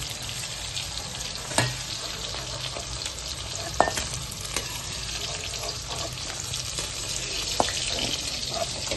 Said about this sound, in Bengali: শিমগুলো ভাজা হয়ে এসেছে